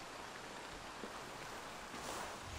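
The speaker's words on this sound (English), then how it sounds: "Gosh, it's raining." Steady rainfall in the Assassin's Creed Valhalla video game, a faint, even hiss of falling drops with no pauses, quiet and constant throughout.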